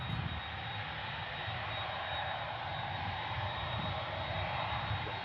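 A jet airliner landing at Memphis International Airport, heard as a faint, distant, steady engine rumble and rush that continues unbroken with no voices.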